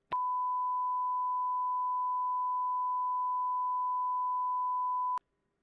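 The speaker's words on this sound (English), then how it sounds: "That is a long beep." A single long, steady censoring beep, a pure tone held unbroken for about five seconds with clicks at its start and end, loud and alone over silence.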